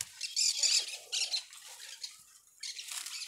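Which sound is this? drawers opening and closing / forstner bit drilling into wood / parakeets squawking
parakeets squawking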